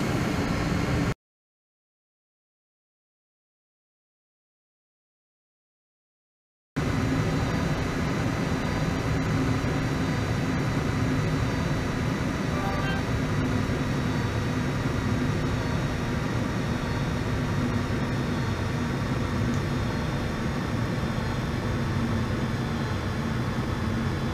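An airliner's engines on final approach in a home-cockpit flight simulator give a steady, broad roar with a faint whine, continuous and moderately loud, broken by a stretch of silence near the start and with no talk.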